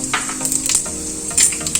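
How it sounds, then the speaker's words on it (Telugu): Fenugreek, mustard seeds and cumin crackle and sizzle in hot oil for a tempering in an egg curry pan, with a close, steady frying hiss and sharp popping bursts. "మెంతులు బాగా వేగుతున్నాయండి"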